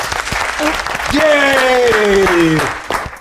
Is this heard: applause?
yes